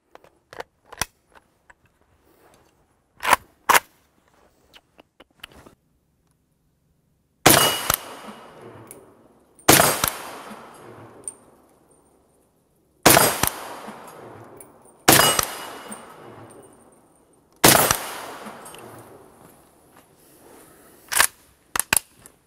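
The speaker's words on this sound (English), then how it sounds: "I'll show you the shooting of the shots across the chronograph" Rifle shots in 7.62x39mm, handloaded with Berry's 123 grain bullets, fired over a chronograph: five loud, sharp reports spaced a few seconds apart, each ringing off into a decaying echo, after quieter clicks and handling noises.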